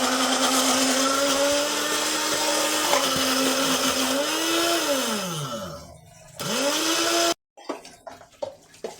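A kitchen blender grinds tomato and garlic paste with a loud, close motor whine that shifts pitch as the blades work, then spins down and stops, followed by a short restart and a few clunks.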